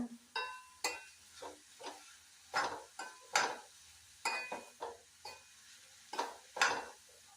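A carrot, onion and coconut stir-fry is stirred in a pan, with a spatula scraping and tapping in a quick, uneven rhythm of a dozen or so short strokes. A faint sizzle sits underneath, and no one talks.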